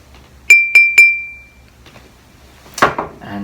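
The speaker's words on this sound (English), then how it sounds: "Here's the empty glass," Three sharp clinks on an empty drinking glass ring out with a high, sustained tone, followed after a pause by a lower, duller strike on a glass almost full of water, both close and clear.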